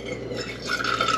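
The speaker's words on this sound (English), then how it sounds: "You take your coffee, pour it in, Jim." Coffee poured into a medium-sized cup, a soft steady splashing fill that rises slightly in pitch as the cup fills, close and quiet with no talk.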